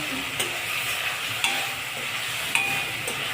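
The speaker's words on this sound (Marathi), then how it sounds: "आता सगळं एकत्र परतून घेणे" Chana masala with fresh coriander and grated fresh coconut sizzles in a pan while being stirred, a steady fry hiss broken by a few sharp spoon scrapes and taps against the vessel.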